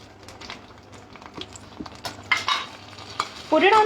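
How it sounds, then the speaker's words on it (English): Melted butter and Amul fresh cream are whisked in a pan over a gas flame, giving quick, uneven metallic clicks and scrapes that grow louder and busier toward the end, with a brief squeaky whine at the close. "Put it on the gas flame and whisk it again."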